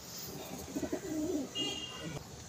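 A pet pigeon at home gives a single soft, rolling coo at close range, followed by a brief quieter murmur against light background hiss.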